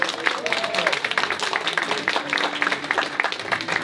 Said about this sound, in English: Round of applause for Jalen Sosa.